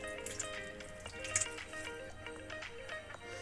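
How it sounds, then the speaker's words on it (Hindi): Puffed rice is rinsed in cold water in a kitchen, giving faint, close sloshing, trickling and dripping water sounds with no talking. "अब इस मुरमुरे को हम ठंडे पानी से इसको धो लेंगे।"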